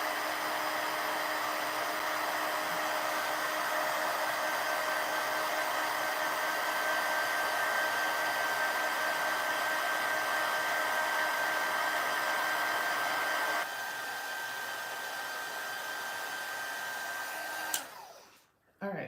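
A heat gun or hair dryer blows steadily and close while heating silicone, a continuous whooshing hum with a faint whine. The level drops once to a lower setting, then it shuts off abruptly at the end.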